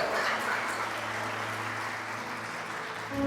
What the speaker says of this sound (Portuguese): Aplauda o Senhor, aplaude a Ele, irmão.